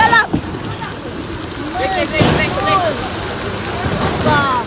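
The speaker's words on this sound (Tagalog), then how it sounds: "Lakas ng ulan!" Heavy rain hisses steadily in the background while several people shout and cheer excitedly nearby.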